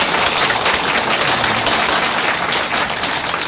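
A church congregation applauds in thanks during a Sunday service, a dense, steady wash of many hands clapping at close range that holds evenly throughout without any voices.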